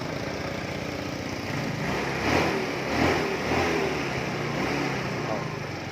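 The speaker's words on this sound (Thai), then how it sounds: "ฟังเสียง เร่งเครื่องนิดนึง" A Yamaha Fino motor scooter engine runs steadily and rises in a couple of brief revs, fairly close and loud.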